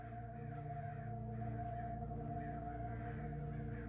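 Crows cawing in the video game Hitchhiker, repeated harsh caws over a steady low droning hum, quiet and continuous with no speech.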